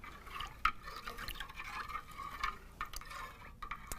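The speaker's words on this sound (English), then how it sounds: "I'm going to give this another good stir." Batik dye bath stirred by hand, a soft continuous swirling of liquid with faint clinks and drips against the container, quiet and close, no talking.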